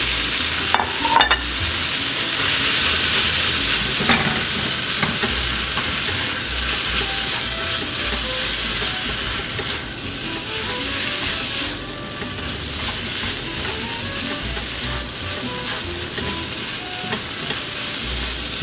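Tomato and egg stir-fry sizzling steadily in a hot pan while being stirred, a continuous close frying hiss with scraping and clinking of the utensil throughout.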